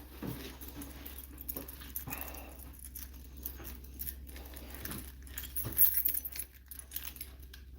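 Keys jangling in a garage, several brief metallic clinks and rattles over a steady low hum, with a dog whimpering faintly nearby.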